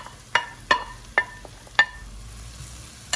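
Onions, julienned ginger and garlic sautéing in a pan, a soft sizzle broken by four or five sharp clinks of a utensil against the pan, close and distinct.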